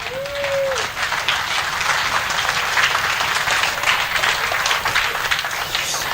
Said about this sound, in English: So a round of applause for Nitto, please.